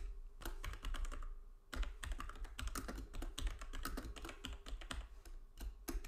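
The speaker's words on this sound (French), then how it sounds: "J'appuie ici sur les touches Shift Entrée." Typing on a computer keyboard while building a WordPress site, with dense bursts of close, crisp key clacks separated by short pauses and no talk.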